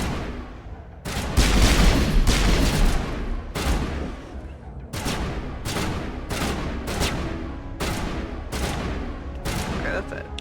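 Bursts of gunfire in the Mass Effect video game, repeated volleys at a steady rhythm, fairly loud and close, with talk alongside.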